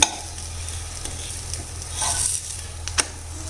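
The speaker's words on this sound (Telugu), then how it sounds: "2 వైపులు తిప్పుతూ కాల్చుకోండి." Aloo paratha frying on a hot pan, a soft steady sizzle with faint patter and a couple of light scraping touches as it is turned, close and without talk.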